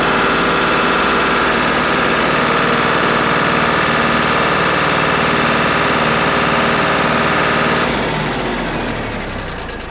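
A Farmtrac 45 turbo tractor engine idles close by with a constant low rumble and mechanical vibration, then slowly fades in the last couple of seconds.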